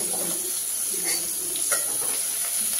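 Sliced onion and a little garlic fry in three ladles of oil for a crab gravy, giving a steady, close, hissing sizzle throughout with no talk.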